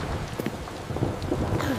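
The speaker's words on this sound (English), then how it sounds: "A rainy day." Steady rain with scattered drops pattering on surfaces, a dense continuous wash of noise with no voices.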